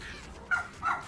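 Mika, a dog, lets out two short barks or yips about a third of a second apart, moderately close and fairly quiet.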